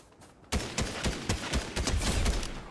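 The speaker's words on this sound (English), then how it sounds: "they're shooting at this llama right here" Bursts of gunfire in Fortnite aimed at a llama, a rapid irregular volley of sharp close shots that kicks in after a brief quiet moment and keeps rattling to the end.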